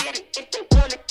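Programmed trap beat built from audio in Soundtrap: crisp closed hi-hats ticking on steady eighth notes with a deep, booming kick landing once, dry and up front with no voices.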